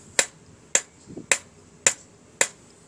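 Hammer blows forging a fine silver bangle, five sharp, bright metallic strikes at an even, steady pace, close and alone, with a faint softer tap between the second and third.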